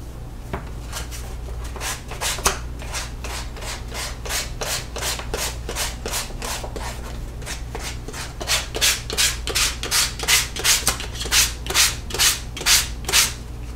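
Repeated rhythmic sanding strokes on leather for a field notes case, steady scraping that grows into regular, louder back-and-forth passes toward the end, close and clear with no talking.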